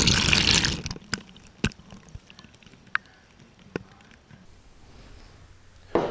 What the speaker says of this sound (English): We're going to start by adding 1 cup of water to our Instant Pot.